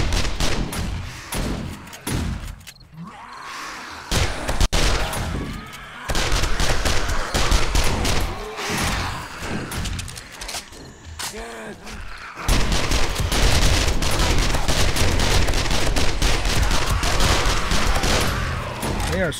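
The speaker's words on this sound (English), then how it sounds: "The shotguns are just going to town, aren't they?" Shotguns firing nonstop at a zombie horde in the survival game 7 Days to Die, a loud, dense barrage of overlapping blasts with brief lulls, layered with game noise and a voice speaking over it.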